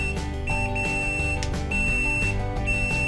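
A high electronic buzzer on a patient health monitor, sounding a low body temperature alert, beeps on and off several times, cutting through steady background music.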